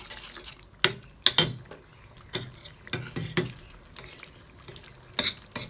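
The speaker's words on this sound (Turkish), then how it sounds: "Daha akışkan ve pürüzsüz olsun diye biraz daha bu şekilde kavuruyorum." Tomato sauce for pasta, made with canned tomato, being sautéed and stirred in a pan, with sharp clinks of a utensil against the pan at irregular moments over a soft background.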